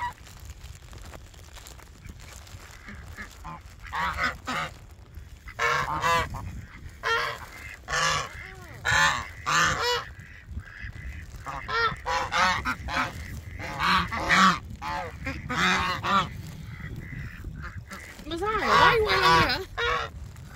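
Big ducks honking outdoors in a long run of loud, repeated nasal calls that come in clusters, with a person's voice heard at times between them.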